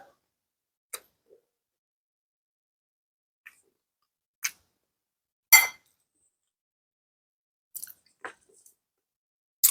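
Eating a lentil and vegetable bowl: a few sparse, close bites and chews, with faint clinks of a utensil against the bowl and quiet pauses between.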